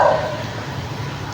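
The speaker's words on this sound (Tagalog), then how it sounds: "Tumatahol na yung aso" A dog barks once near the start at a botanical garden park, a short sharp bark up front, then only a quieter outdoor background follows.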